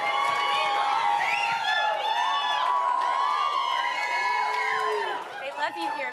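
A large audience at a Moms For Liberty summit cheers, whoops and shouts in a loud, sustained roar with overlapping high voices and whistles that tapers slightly near the end.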